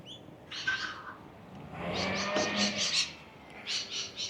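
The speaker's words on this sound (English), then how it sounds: "And you can probably hear the birds" Birds chirp and trill around a quiet suburban walking track near a railway line around 8 a.m. between Westona and Seaholme, bright repeated calls nearby, one brief phrase followed by a longer run of chirps.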